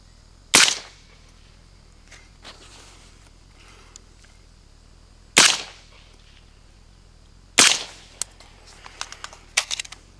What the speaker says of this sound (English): stealth additive Tisha, Mark 18, still shooting same ammo up here at the backstop